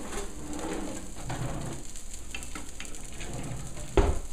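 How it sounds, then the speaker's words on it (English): Broccoli coated in olive oil sizzles steadily in a heated pan, a continuous close frying hiss with occasional stirring scrapes and a brief sharper clatter near the end, no talk. "now that my pan's heated up a bit, I toss in the broccoli"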